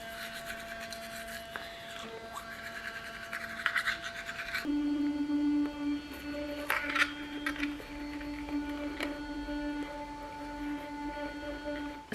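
An electric toothbrush hums steadily through a brushing session in a very echoey bathroom, its buzzing tone shifting as it moves against the teeth, with scraping rubs layered over the constant drone.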